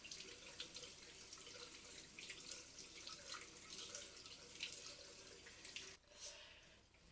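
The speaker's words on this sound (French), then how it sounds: "Alors avec de l'eau chaude, il faut rincer." Hot water runs steadily from a tap into a sink as a face is rinsed, a continuous close splashing hiss with faint drips and a brief interruption near the end.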